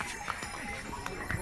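A horse's hooves clip-clop on the stone mountain trail to Kedarnath, with a few close, uneven hoof strikes over outdoor background noise.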